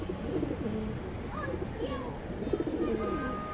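A racing pigeon coos softly in a loft, with low rolling cooing phrases repeated several times, faint and close against a quiet background murmur.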